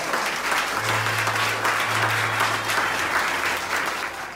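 Congregation applauding together at a New Year's Eve church service, a dense steady wash of clapping with a low sustained hum beneath, fading slightly at the end.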